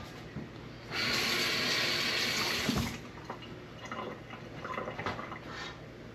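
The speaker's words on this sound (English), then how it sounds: "Alright, wash my hands." Hands rinsed under a running kitchen tap while canning bread and butter pickles: a steady two-second gush of water, then scattered drips and small clinks, close and fairly quiet.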